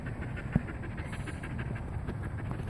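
A Jindo dog pants close to the microphone in quick, steady breaths, fairly soft, with a brief louder thump early on and no talking.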